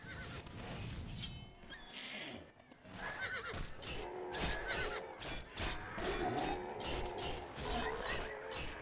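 A horse under attack whinnies repeatedly in the game Oblivion amid game sound effects and clattering hooves, the neighs rising and falling over several seconds.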